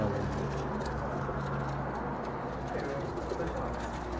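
Low, rolling coos of pigeons on a rooftop run through a busy, constant background murmur of birds, steady throughout.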